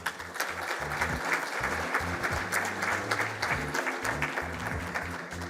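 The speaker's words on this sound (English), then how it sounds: "So please give yourselves a round of applause." An audience at an awards ceremony gives a sustained round of applause, dense steady clapping throughout with a few voices mixed in.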